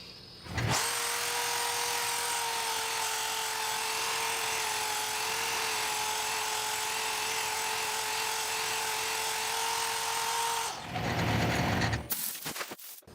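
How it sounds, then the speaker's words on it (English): A 60 grit flap sander on a 12-inch extension sands the inside of a turned wooden vase on a lathe, giving one loud, steady, high whine that holds for about ten seconds before it winds down. "now I've got a 60 grit flap sander on the end of a 12-inch extension. I'm going to hit that"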